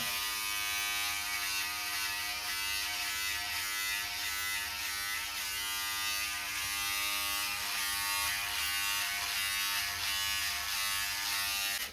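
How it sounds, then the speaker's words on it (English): Electric clippers trim a beard into a beardstache with a steady, close, high-pitched motor buzz that holds unbroken throughout, with small shifts as the blades move across the hair. "I can go the other way with the clippers and get it clean"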